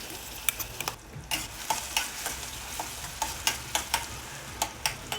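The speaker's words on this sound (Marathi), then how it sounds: "ठेचा व्यवस्थित परतून घेऊया" Green chili thecha sautéing in peanut oil with cumin, a constant close sizzle with rhythmic spatula taps and scrapes against the pan, no voices.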